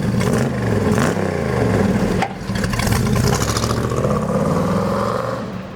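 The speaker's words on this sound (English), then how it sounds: "one of the most prominent features is the megaphone type side exhaust, which really makes these things have a nice unique sound." A 1970 Dodge Challenger T/A with megaphone-type side exhausts runs close by, giving a loud, steady engine note with revving swells and a brief dip midway.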